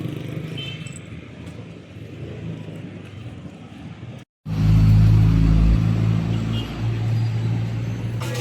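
A car engine runs nearby, a low steady rumble that surges louder and deeper after a brief cutout partway through, with faint background voices and street ambience.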